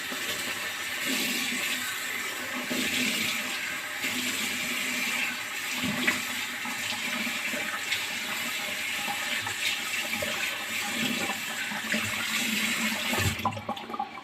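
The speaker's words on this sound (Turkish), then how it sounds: "Yüzümüzü yıkayacağız şimdi." Water runs steadily from a tap while a face is washed, a continuous hissing, splashing flow that stays fairly loud and even throughout, with no talking.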